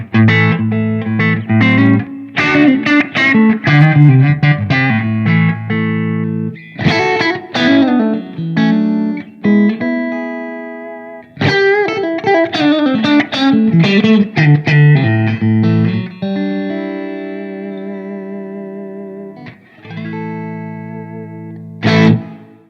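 Electric guitar plays chords and riffs through distortion and modulation effects on a Blackstar ID:X amp, loud and sustained, with a few short breaks between phrases.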